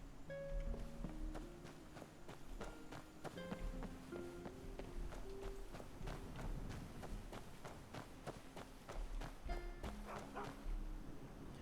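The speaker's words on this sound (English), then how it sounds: "I hear barking." A dog barks in the Skyrim video game, with a run of repeated barks and yips mixed with footsteps and game music notes, all at a faint level.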